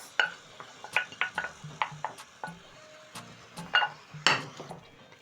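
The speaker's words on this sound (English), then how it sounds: "I'm going to add in my seasoned carrots and onions to my pot." Seasoned carrots and onions tipped into a cooking pot and stirred: a close series of light clinks, scrapes and soft sizzling taps recurring in an uneven rhythm, with a utensil knocking against the pot.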